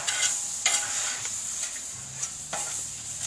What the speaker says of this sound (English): what we're going to do is put these burgers down